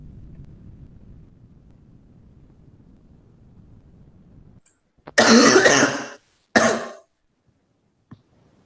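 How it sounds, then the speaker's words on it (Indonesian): A faint hiss gives way to two sharp, loud coughs close to the microphone, then a brief click before quiet. "Kamu batuk."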